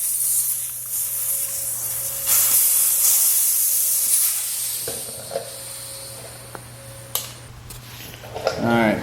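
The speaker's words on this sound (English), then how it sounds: "let the air out of the tire and then take the inside of the valve stem out" Air hissing out of the valve stem of a worn rear tire on a Volvo C70, a steady close broadband rush for about five seconds that then thins out, followed by a few small metallic clicks and handling noises.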